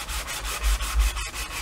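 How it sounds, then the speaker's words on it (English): Steady scratchy rubbing of a sanding block on painted wood, taking off the top layer of paint, repeated back-and-forth strokes, close and fairly loud, with one brief sharp tap partway through. "I'm gonna start sanding off the top layer of paint"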